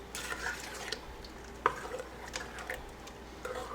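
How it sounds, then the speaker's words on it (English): A spoon stirring melted sugar into a peach cobbler mixture, giving faint, soft scrapes and occasional light clinks against the bowl in a quiet room. "And then I'm going to stir that right in."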